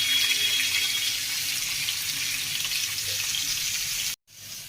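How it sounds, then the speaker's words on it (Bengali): Skin-on chicken pieces are rinsed under running water, giving a steady, close rushing splash that holds evenly for about four seconds before cutting off abruptly. "ভালো করে চিকেনগুলো ধুয়ে নিই।"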